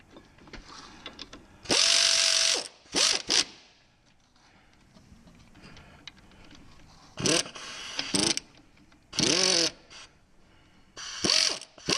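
A ratchet wrench clicks in quick bursts as bolts are tightened to torque on a Jeep Grand Cherokee WJ CV joint, with several short close ratcheting runs separated by quieter pauses.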